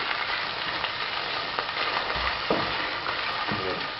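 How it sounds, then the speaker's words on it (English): Raw meat and salami browning in hot bacon fat give a steady, dense sizzle throughout, with occasional scraping stirs and spits rising above the crackle. "I'm going to put in this raw meat and salami, all the lean meat, and I'm going to cook that in the bacon fat for a few minutes"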